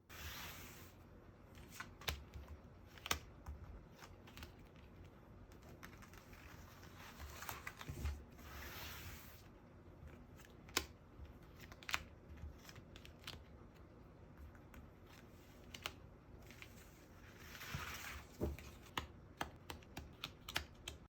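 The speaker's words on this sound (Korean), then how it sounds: "조금 더 카드 더 뽑아 볼게요" Tarot cards being shuffled and drawn by hand, a quiet run of soft rubbing swishes and sharp light snaps and taps, close up with no talking.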